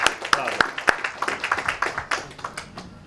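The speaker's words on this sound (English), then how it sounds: "deserve an extended round of applause for their tremendous work accomplished under an extremely tight schedule" Scattered hand claps ring out in a room at a book presentation about Ukraine after Maidan, a handful of sharp, close claps thinning into lighter patter over about three seconds with a low murmur of voices.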